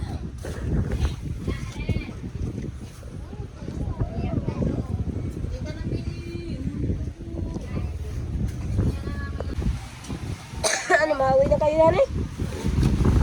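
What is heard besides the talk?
strong wind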